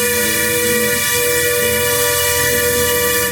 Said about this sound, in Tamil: ஏன் இவ்வளோ ஹார்ன் அடிக்கிறாங்கன்னா பிகாஸ் அவ்வளோ டேஞ்சரஸான ஹில் பின்னுங்க